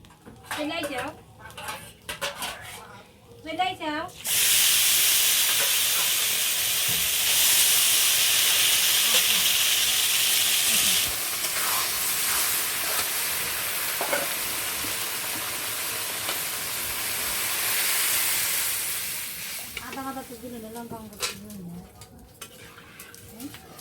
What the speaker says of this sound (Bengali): এবার আমরা জল দেবো।